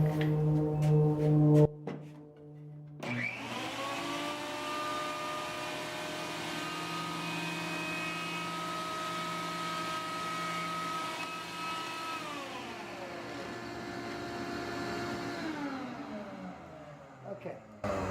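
A Wen 6559 benchtop jointer makes a trial cut on wood, spinning up to a loud, steady whine with a droning hum that holds for about ten seconds before winding down, after a brief mechanical clatter at the start.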